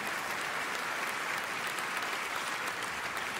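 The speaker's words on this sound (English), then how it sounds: "you can give applause." Steady audience applause at a Hall of Fame enshrinement ceremony, a dense continuous wash of clapping from a large crowd that holds evenly throughout without a break.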